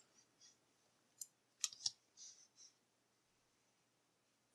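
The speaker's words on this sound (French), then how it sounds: "Et il n'y a plus qu'à couper." A few quick snips of scissors cutting crochet yarn at the end of closing a crocheted amigurumi head, close and faint, with soft rustling around the cuts in a quiet room.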